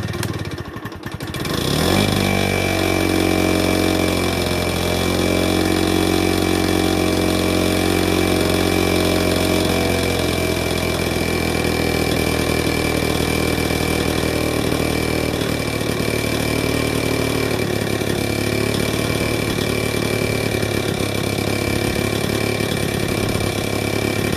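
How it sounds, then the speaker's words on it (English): A WW2 PE-210 generator engine, repaired at the carburetor, cranks on its electric start and catches, then runs at a steady, close, even idle. "I'm going to try the electric start. Basically, it just reverses the current to turn the motor"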